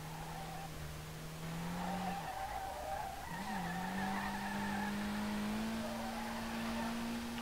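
A car drifting in SLRR, with a sustained engine drone under a long, steady tire squeal that dips briefly, then climbs back and keeps skidding, fairly faint, with no talk.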